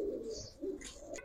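A khaki pigeon gives a brief pair of soft, low coos close by, the second shorter than the first, with a faint chirp near the end.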